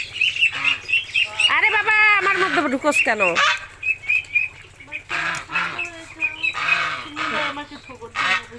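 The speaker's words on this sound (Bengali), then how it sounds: "রাজা হাঁসে ধাওয়া মারছে" A raja duck in a Madaripur village chases other birds, honking loudly in bursts and flapping its wings close by, while someone talks over the commotion.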